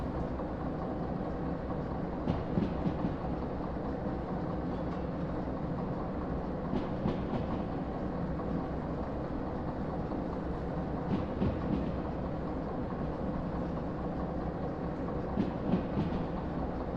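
A freight train in a train simulator game rolls steadily at low volume with a continuous rumble and faint rhythmic rail clatter, as train brakes are applied; no voices are present.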